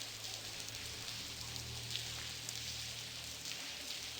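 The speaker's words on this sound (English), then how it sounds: "Hey, let's get out of this rain." Steady pouring rain in the video game Blackwell Convergence, a constant hiss of falling water with faint scattered drops, quiet and even throughout with no voices.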